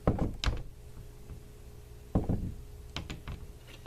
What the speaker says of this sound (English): can you guys hear my door? Just randomly like slams.